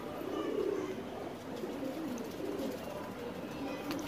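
Soft, low cooing of Gola tukri pigeons repeats steadily against a faint hum of background noise, with no one speaking.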